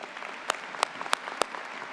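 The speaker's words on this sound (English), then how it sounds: "one more round of applause" Audience applause at a university commencement ceremony, sparse and fairly distant claps with a few sharp individual hand claps standing out over a soft crowd wash.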